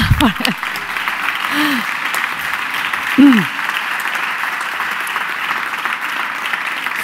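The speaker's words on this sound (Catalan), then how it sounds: "Podem aplaudir, si us sembla." Audience applause at a Barcelona International Educating City Day welcome event: a steady wash of many hands clapping throughout, with a few brief whistle-like voice sounds early on and a short cry near the middle.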